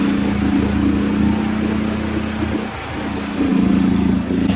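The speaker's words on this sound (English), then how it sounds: "I've got to keep it revving high all day long, which is bad for fuel." Cherry picker engine held at high revs, a loud steady mechanical drone that dips briefly midway and then returns to full speed.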